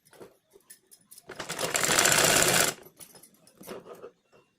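A sewing machine runs a straight seam on chudidar top fabric in one continuous burst of rapid stitching lasting about a second and a half, with softer clicks and handling noises before and after.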